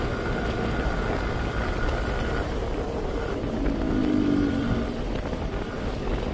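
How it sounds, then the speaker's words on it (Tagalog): A Yamaha Gravis V3 2026 scooter rides along an open road as a big motorcycle draws near, a steady engine and road roar with a brief louder swell as the bike closes in, no talk. "lumalapit na yung big bike, nagbabagal na"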